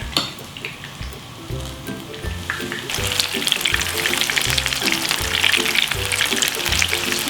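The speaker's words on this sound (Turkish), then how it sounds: "Yağımızı da kızdırdık. Şimdi kaşıkla dikkatlice bırakıyorum içine." Hot oil sizzles steadily as spoonfuls of zucchini fritter batter drop in to fry, with the crackling hiss growing louder and denser partway through.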